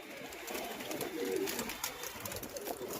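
A returned, previously sold pigeon coos softly nearby, low murmuring calls repeating over a steady background hiss, with no talking.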